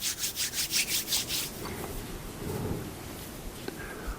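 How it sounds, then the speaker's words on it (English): Hands rub briskly together in a quiet room, giving several rhythmic swishing strokes, then softer, slower friction noises. "Today, we're just going to rub our hands together."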